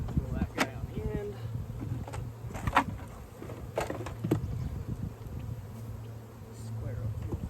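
Honey bees buzz around hive boxes during box adding and grafting preparation, a close, continuous drone that rises and falls as insects pass near, with wind noise and occasional handling thumps.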